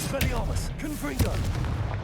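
Confringo blasting spell in the Hogwarts Legacy video game, heard as muffled booming impacts and crackling bursts layered over game effects, with a voice speaking at moderate level throughout.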